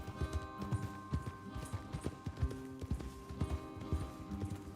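Horse hooves clip-clop in a steady rhythmic trot in Red Dead Redemption 2, a string of close, evenly spaced thuds heard over soft sustained background music.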